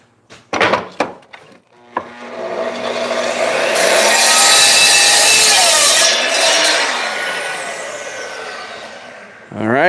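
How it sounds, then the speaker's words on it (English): A table saw cuts straight lines through wood for a battle axe, the blade whining up loud and steady for several seconds after a few sharp knocks, then spinning down as the cut ends. "we're going to cut these lines with the table saw"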